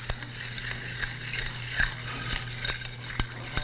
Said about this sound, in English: And we are going to stir, stir, stir.